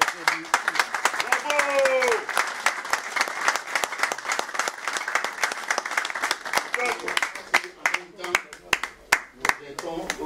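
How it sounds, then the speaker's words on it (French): Crowd applause at the official launch of a presidential campaign rally in France, sharp dense clapping with cheering voices over it, thinning into separate claps near the end. "Nous devons tous d'abord applaudir le chef de l'État, son Excellence Félix Antoine Tshisekedi."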